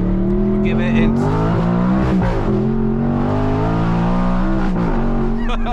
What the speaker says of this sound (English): Let's go sport, so this will sharpen up the throttle, sharpen up the gear shift as well.